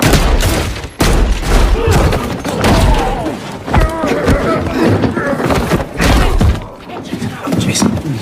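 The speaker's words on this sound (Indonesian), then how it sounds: "Namun saat Chase melepaskan ikatannya, Kapten Jerman itu berhasil merebut senjata Chase dan menembaknya" Gunfire and impact bangs ring out in a World War II film scene, a dense burst of shots and thuds mixed with music and shouted voices throughout.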